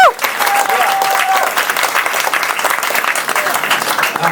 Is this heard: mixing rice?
no